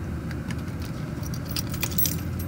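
Car keys jangle and clink close up in a series of bright metallic rattles, louder toward the end, over a low steady background hum and no voices.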